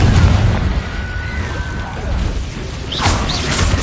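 A Confringo blast spell explodes in the Hogwarts Legacy video game, a burst of crackling impact near the end over a low rumbling game soundscape, with a faint tonal whistle before it.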